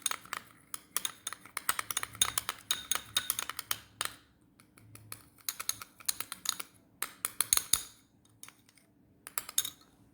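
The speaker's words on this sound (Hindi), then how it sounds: "दोनों को डाल के हम अच्छे से मिक्स करेंगे।" DIY eye mask ingredients stirred together in a small bowl, heard as rapid, close, irregular clicking and tapping of a utensil against the bowl in bursts with brief pauses.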